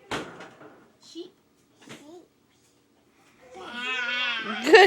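A sheep gives a loud, wavering bleat near the end, following a toddler and an adult speaking single words at close range.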